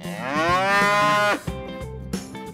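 A cow moos once in a long, loud, drawn-out low call that rises and swells before breaking off, followed by a few short muffled thumps.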